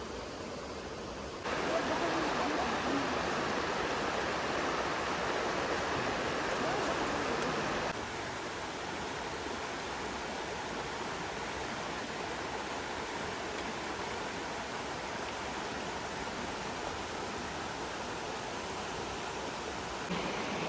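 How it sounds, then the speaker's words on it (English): Water running through a shallow creek near a hidden waterfall outside Quebec City, a steady broadband rush that stays even throughout, louder for the first several seconds and then settling into a softer constant flow, with no voices. "just in little shallow creeks like this, he's catching the fish"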